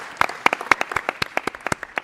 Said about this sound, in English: I feel like that deserves a round of applause right now